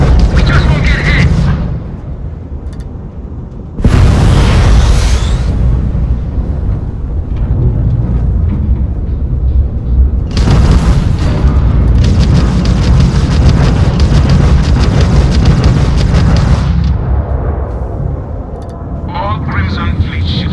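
Repeated loud explosions as Crimson Fleet ships are blown apart in a space combat video game, heavy booming bursts filling most of the stretch with brief lulls, a voice talking over parts of it.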